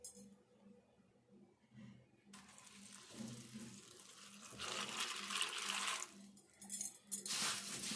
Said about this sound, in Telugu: ఇవి కొంచెం వాటర్ వేసుకొని తడుపుకుందాం